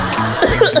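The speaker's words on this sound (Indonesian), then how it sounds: "Ya, batuk lagi." A brief, close cough, a couple of rough bursts in quick succession.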